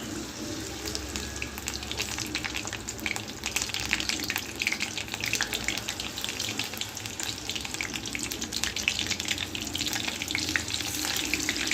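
Paneer pieces for paneer 65 fry in hot oil, giving a steady, dense crackling sizzle that runs throughout at close range, with faint scattered pops and no talking.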